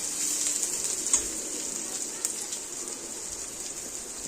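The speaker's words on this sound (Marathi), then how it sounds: "आता या सर्व वस्तू व्यवस्थित छान अशा तेलावरती परतून घ्यायच्या उलट सुलट करत" Roasted peanuts and leftover chapati upma being sautéed in hot oil, a steady close sizzle and crackle that runs throughout with a few sharper pops.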